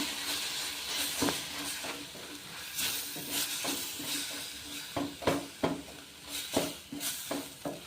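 Tomato chutney with tamarind being stirred in a pan, a quiet simmering hiss punctuated by repeated scraping and clinking strokes of the spoon against the pan at an uneven rhythm.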